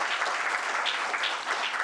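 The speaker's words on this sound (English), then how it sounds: "let's give our keynote speaker, Dr. Denzel Chetty, and our respondent, Ms. Jessica Nell, a round of applause." An audience at a university short learning programme event applauds the keynote speaker, a dense, steady round of clapping close by that holds for the whole moment.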